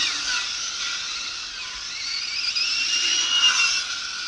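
RC rally car with a 1400 kV electric motor accelerating, giving a high, steady whine that rises and sharpens toward the end, fairly close and alone.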